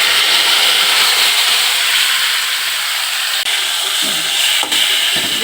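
Leafy greens tipped into hot oil in a home kitchen pan give off a steady, loud broadband sizzle and hiss that runs unbroken throughout, with a couple of brief dips.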